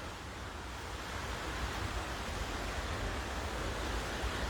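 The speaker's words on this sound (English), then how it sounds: "obviously with the river rising, you can hear it" A river swollen and rising after steady rain rushes along in a continuous broadband roar. It is close and even throughout, with no voices.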